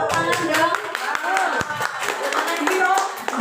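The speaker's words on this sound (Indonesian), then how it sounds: "Wah, tepuk tangan dong." Hands clap together in a school gathering, a dense burst of applause that carries through the whole moment, with children's voices mixed in beneath the claps.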